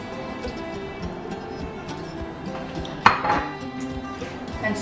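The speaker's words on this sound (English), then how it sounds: "And stir it all up and mix it up." Vegetarian hiking meal being stirred in a camping cooking pot, with onion bubbling inside; steady low simmer and soft scraping throughout, broken by one sharper metallic clink of the spoon against the pot partway through.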